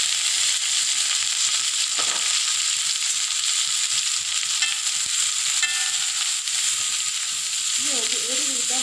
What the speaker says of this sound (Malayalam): നല്ലപോലെ ഒന്ന് വഴറ്റി വെക്കും